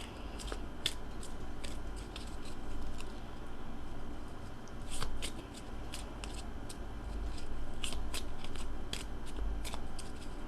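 Tarot cards are shuffled by hand, with quiet, close, repeated papery riffles and sharp little clicks coming in irregular bursts and no talk.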